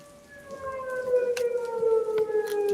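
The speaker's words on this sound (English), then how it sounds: "Does someone have a trader siren going on right now?" A Minecraft trader siren wails steadily in a rising, sustained tone, fairly clear and present through a quiet background with a few faint clicks.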